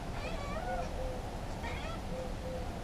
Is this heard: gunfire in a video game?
no